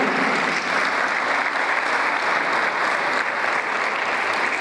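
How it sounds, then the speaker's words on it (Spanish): Audience applause for census workers, a steady, fairly close burst of many hands clapping at even intensity throughout, with no talking over it. "Un aplauso para ellos"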